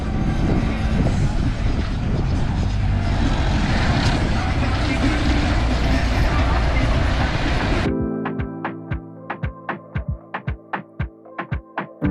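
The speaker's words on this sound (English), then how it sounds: "Here comes our tram." Resort tram pulling in at Resorts World Bimini in the Bahamas, a loud steady motor roar close by for several seconds that drops away, followed by a series of sharp rhythmic clicks or beeps.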